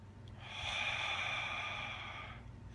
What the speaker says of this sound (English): You can be breathing like this.